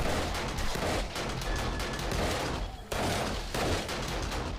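SMG turrets fire rapid, continuous bursts of gunfire at zombies in 7 Days to Die Alpha 19. The shooting is loud and dense, with one brief pause midway and no voices over it.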